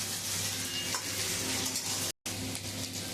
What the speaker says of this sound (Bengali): আমি এখন আলুটা দিয়ে দেবো আর পটলটাও দিয়ে দেবো। আমি এখন একটু ভেজে নেব।